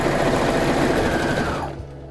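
A sewing machine stitching through fabric for a cot liner beside its folded hems, a loud, close, steady whirring run that winds down and stops near the end, with no voices.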